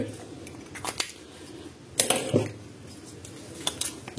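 Cutting a wire lead in a microwave oven's high-voltage capacitor and diode circuit: a few sharp snips and metallic clicks, close up, with quiet handling noise between.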